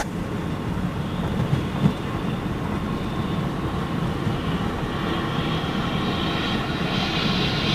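Steady, loud roar of a jet aircraft engine airside at Frankfurt airport, a constant whine with a rising high-pitched tone toward the end, heard close with no talking.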